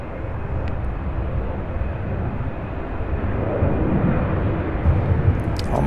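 A heavy UPS freighter jet at Louisville's SDF airport gives off a loud, steady low roar that builds slightly over several seconds, with faint clicks of handling noise on top.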